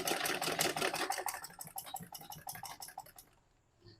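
A sewing machine runs a line of stitches down dress lining, fast rhythmic clattering that starts loud and close, slows and fades over a few seconds, then stops.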